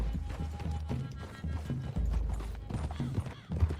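Horses gallop in Red Dead Redemption 2, their hooves pounding in a fast, uneven clatter that stays loud and close, with a brief whinny mixed into the rush.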